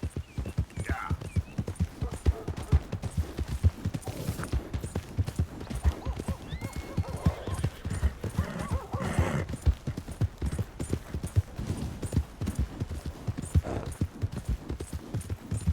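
Steady, rhythmic clip-clop of horse hooves in Red Dead Redemption 2 continues throughout, with occasional whinnies and some talking over the trotting.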